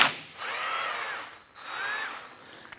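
Two bursts of a power drill spinning a 13mm socket to back off a nut while replacing the AC condenser on a 2005-2007 Ford Five Hundred, each whine lasting about a second, close and fairly loud, with no talking.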